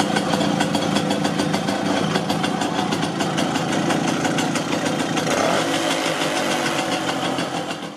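A Simson SR2 moped engine idles steadily and loudly close by after an ignition fault was worked on with the condenser and spark plug replaced, giving a continuous rattling putter throughout.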